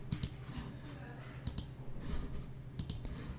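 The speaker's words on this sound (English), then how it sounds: "So just double left click it to extract the file." Computer mouse clicked in quick pairs of left-button double clicks on a Windows PC, several sharp close clicks spaced across the span over a faint room background, no talking.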